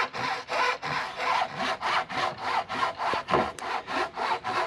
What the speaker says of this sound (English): Aaron just cutting the bevel on the bottom.